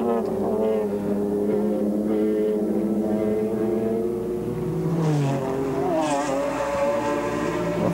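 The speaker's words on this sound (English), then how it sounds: "Nelson gets the McLaren wound up, remembers the pit lane speed limit. Out he goes and back into the race." A BMW McLaren GT1 race car at a 1996 race in Curitiba accelerates out of the pit lane, its loud, droning engine climbing in pitch through the gears, close and continuous.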